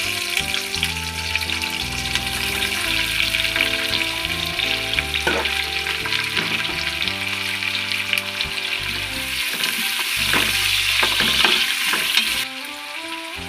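Chopped onions fry for biryani with whole spices, cardamom and bay leaves in the pan, sizzling loudly and steadily under background music, with a few scraping stir clicks near the end and no talking.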